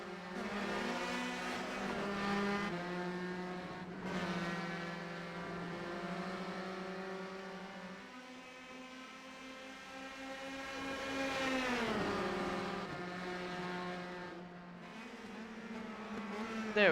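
Several race cars sweep through a chicane at Lime Rock Park in a racing video game, a pack of engine whines layered together with harmonic tones rising and dipping as they brake and accelerate, steady and continuous throughout.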